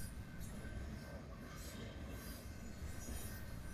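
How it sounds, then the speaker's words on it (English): A train rolling past on the tracks, a loud, continuous close-up roar of wheels on rail with a steady metallic squeal running throughout. "While we were waiting for the train to pass"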